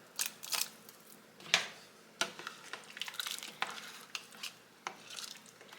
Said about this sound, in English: We'll get those stirred around in there.